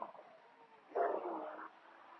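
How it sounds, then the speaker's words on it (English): Puppies barking and yipping off to one side indoors, a faint low whimper followed by a short, brighter burst of barking, fairly quiet and distant. "Please ignore the puppies to my right barking at me."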